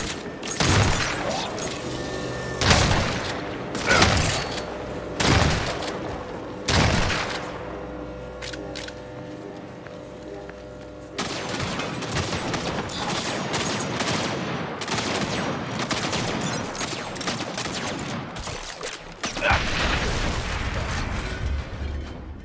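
Gunfire in the Saints Row video game, a prototype gun in a field test: heavy bursts and single loud shots at first, then a sustained stretch of rapid, dense automatic fire with a renewed volley near the end.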